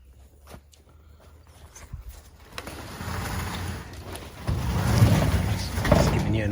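A wooden hoop-house chicken tractor, its wheels mounted through the bottom 2x4 frame, rolls along the ground with a low, steadily building rumble and faint creaks, a few light knocks at the start.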